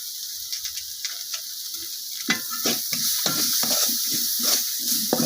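Turmeric and chili powder are stirred with spices in a hot pan, giving repeated scraping strokes over a soft, continuous sizzle, close by, with no speech.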